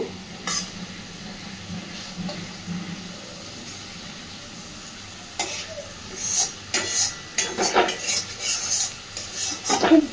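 Aar fish is turned and coated in spice paste in an oily pan, a soft sizzle at first, then clustered clinks and scrapes of a utensil against the pan growing busier toward the end.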